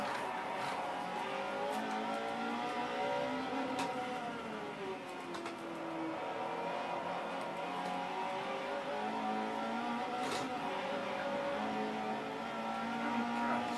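A car engine revs hard around the Nürburgring Nordschleife in Forza 4. A continuous, fairly loud engine note rises and falls through gear changes as the throttle is held down, with no talking.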